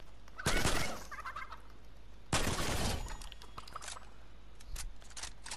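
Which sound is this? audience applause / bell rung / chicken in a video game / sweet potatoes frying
chicken in a video game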